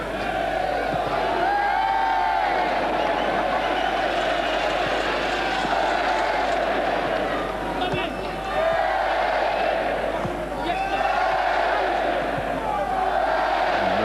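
Large football crowd at a Liverpool versus Derby County Premier League match, a dense, steady roar of many voices with swelling chant-like surges, heard from within the stands throughout.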